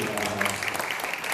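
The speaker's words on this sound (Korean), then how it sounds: "우리 박수, 기차 박수 부탁드립니다" An audience at a Korean-language speaking contest claps, a brief dense burst of applause mixed with voices; no distinct train-style rhythm stands out.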